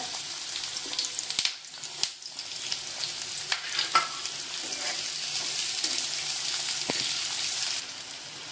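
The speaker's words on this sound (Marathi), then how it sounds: "आता त्याच्यामध्ये मी कांदा टाकणार आहे" Finely chopped onion hits hot oil alongside roasted peanuts in a pan for a vermicelli dish, a loud rushing sizzle that settles into a steady fry, punctuated by a few sharp stirring clinks, close up with no talking.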